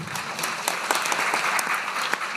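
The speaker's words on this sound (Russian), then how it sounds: "не надо там хлопать после каждого стихотворения" An audience at a poetry reading in a cinema hall applauds after a poem, steady dense clapping filling the room from start to finish without talk.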